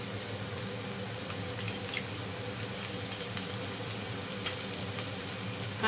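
Ginger paste frying with onion and garlic in a pan for a Bengali curd rohu fish curry, giving a steady, moderate sizzle that runs unbroken throughout with faint crackles and no voices.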